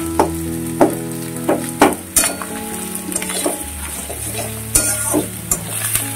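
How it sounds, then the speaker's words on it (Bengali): Fish roe fries and is stirred in a pan, a steady sizzle under repeated sharp scraping and clinking strokes of a utensil against the metal, several distinct knocks spaced through the stretch, close and fairly loud. "এটা এখন অনেকক্ষণ ভাজা হবে,"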